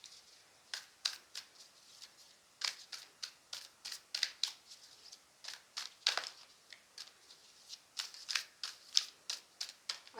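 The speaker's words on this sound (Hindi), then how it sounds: "अच्छे से शफल कर लेते हैं एक बार और" Tarot cards being shuffled by hand, a quick run of close, crisp riffling snaps and flicks coming in uneven bursts against a quiet room.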